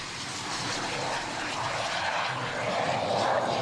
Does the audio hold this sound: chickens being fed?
no